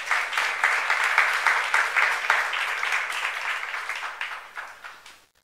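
Church congregation of a young adults' service bursting into applause, a dense wash of many hands clapping close and loud, then fading out over a few seconds.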